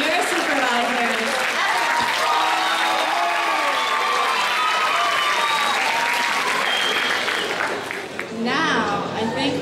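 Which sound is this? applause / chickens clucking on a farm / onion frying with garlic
applause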